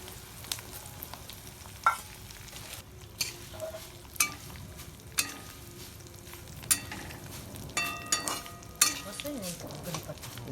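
Curry leaves sizzle and crackle in hot oil for homemade puffed-rice chivda masala, a soft steady frying hiss close by, broken by sharp spatters, clinks of a spoon against the pan and occasional stirring.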